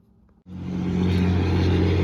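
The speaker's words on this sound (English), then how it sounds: "Let's get away from this loud highway" Steady roar of passing highway traffic near Morro Peak in Jasper National Park begins abruptly after a brief quiet moment, a loud continuous engine and tire rumble close by.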